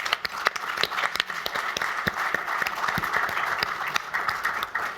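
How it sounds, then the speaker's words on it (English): An audience claps steadily at a mayoral candidate forum held in a hotel ballroom, producing dense, even applause that holds at a moderate level for several seconds with no voices over it. "Let's just give them all a round of applause."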